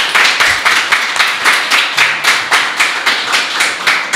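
A small audience claps for a singer after his introduction on a Brazilian talk show, the claps sharp, regular and close, a steady unbroken run lasting about four seconds.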